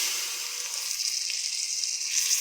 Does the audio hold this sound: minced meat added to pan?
yes